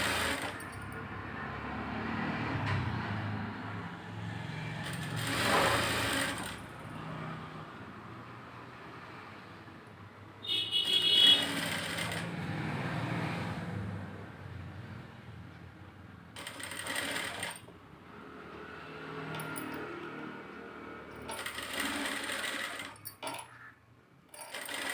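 Sewing machine stitching a fabric puff sleeve, running in several bursts of steady whirring hum broken by short pauses, close and fairly loud with no talk.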